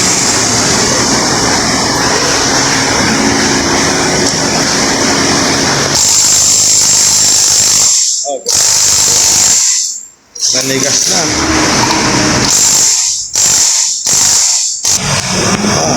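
A pneumatic impact wrench hammers at a motorcycle flywheel during clutch work, in loud rattling bursts with sharp stops and restarts, under shop noise and voices.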